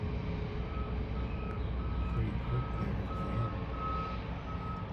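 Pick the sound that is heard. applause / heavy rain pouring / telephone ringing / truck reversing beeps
truck reversing beeps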